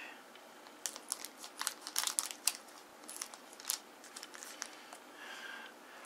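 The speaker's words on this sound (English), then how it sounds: "let's go ahead and use the scissors" Scissors snip and crinkle through the plastic wrapping on a Babylon 5 card game booster box, producing close, light bursts of crackling and cutting sounds in a quiet room.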